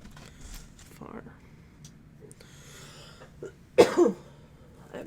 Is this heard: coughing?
yes